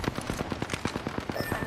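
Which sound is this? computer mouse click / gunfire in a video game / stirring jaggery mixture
gunfire in a video game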